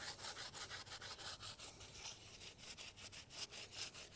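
A white scratchy abrasive pad scrubbing a part from a 1974 Honda CB 360 motorcycle, a quiet rapid back-and-forth rasping in short even strokes, close and alone with no talk.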